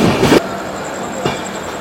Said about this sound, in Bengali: তারপরই ছেড়ে দিল আমাদের ট্রেন। পানাগড় ছেড়ে বেরিয়ে গেলাম।